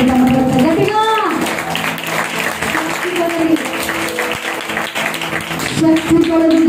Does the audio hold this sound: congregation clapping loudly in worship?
yes